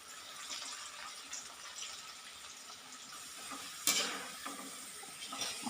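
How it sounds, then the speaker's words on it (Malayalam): Snacks fry in hot oil over a medium flame, a soft continuous sizzling hiss with a louder bubbling burst as more goes in, fairly faint and close, without talking. "ഇനി എണ്ണയിലോട്ട് ഇട്ട് കൊടുക്കാം."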